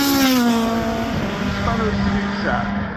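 A high-performance Spanish-Swiss supercar driven hard at the Goodwood Festival of Speed 2022, its loud engine roaring steadily close by for about three seconds, with the pitch sliding slightly as it passes.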